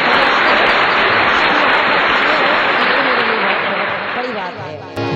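Loud audience clapping at a devotional kirtan stage programme, a thick sustained wash of hands that stays strong for several seconds and tapers slightly at the end.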